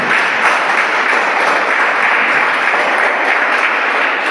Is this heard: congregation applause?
yes